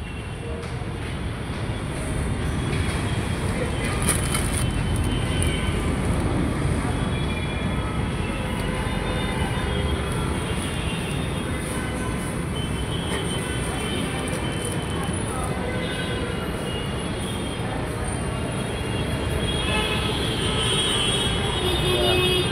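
Metro train running past a station skywalk, a steady broad rumble and rush that holds loud and even throughout with no clear breaks.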